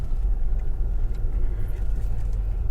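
A 2001 Chevy Lumina car being driven, heard as a steady low engine and road rumble, close and continuous, with no talking.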